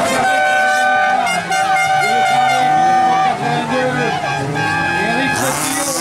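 Autocross race cars, among them a Toyota numbered 19, at the 2016 Minzac national heat, with loud engines whining and revving up and down close by, then a burst of louder noise at the end.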